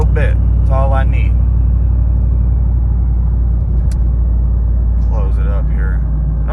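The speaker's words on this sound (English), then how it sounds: "open the cutout, alright, it boosts a whole lot quicker, and it sounds really cool." Turbocharged Ram truck with a Hemi V8 rumbles steadily from inside the cab with the exhaust cutout open, a deep continuous low drone, while someone talks over it at the start and end.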